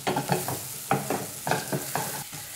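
Dried red chillies fry with cooked tomatoes in a pan for a lentil curry, a soft sizzle broken by repeated scraping stirs in an uneven rhythm, close and quiet, with no talking.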